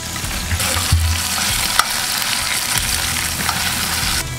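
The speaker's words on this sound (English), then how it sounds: "That bacon's looking nice and crispy on one side, so we'll pop it up." Bacon fries on a Primo Kamado grill with a loud, steady sizzle and crackle, a couple of faint clicks and no voices.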